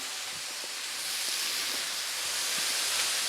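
Fried rice with eggs sizzles steadily in a pan, a dense, loud hiss that holds throughout with faint scraping and soft ticks underneath and no voices.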